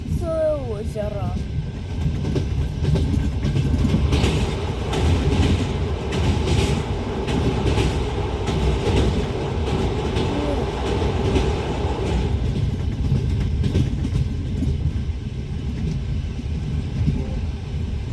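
A passenger train rolls through the Russian Far East with a steady rumble and rhythmic wheel clatter on the rails, heard from inside the carriage. Brief faint voices can be heard over it.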